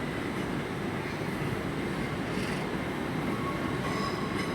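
A passenger train draws into London Paddington as a terminating service from Didcot Parkway, unit 38146 leading, giving a dense, even roar of wheels and traction noise close by with a faint high whine near the end.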